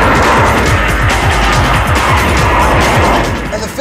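A rear-engined German sports car's engine roars loudly and steadily under acceleration, with rapid pulsing firing beats throughout before easing slightly at the end.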